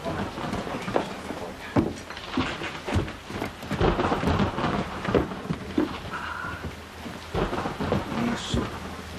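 Steady rain pours over a scene while rumbles of thunder roll through repeatedly, loud and close, with scattered drops pattering on surfaces.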